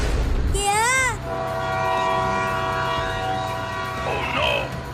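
A cartoon train on the track sounds a loud rising-and-falling whistle, then rumbles steadily closer with a sustained horn tone, while a voice calls out near the end.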